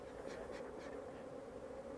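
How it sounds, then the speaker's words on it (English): Angry honey bees buzz steadily from an open hive during an inspection for American foulbrood, where smoke is in use. The drone is a continuous close, dense hum, with a few higher whining passes of individual bees rising over it. "So the bees quite often get annoyed with the process,"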